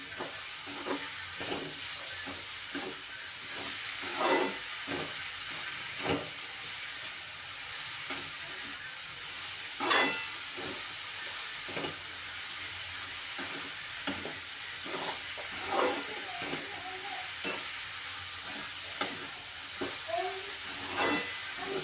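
Fenugreek leaves and finely chopped ridge gourd stir-frying in oil for a dry sabzi, with steady sizzling broken by repeated scraping strokes of a spatula in the pan, close and moderately loud, no talking.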